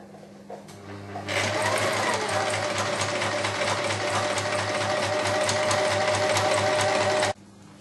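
A sewing machine stitches bias binding around the neckline of a small wool cape, running in one steady, close, continuous burst of several seconds with a fast, even needle rhythm, starting and stopping abruptly.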